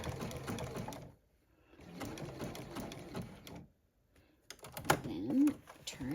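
A sewing machine runs in short zigzag bursts while stitching satin binding onto the corner of a stretch fleece blanket, with pauses between runs and a bit of nearby handling noise.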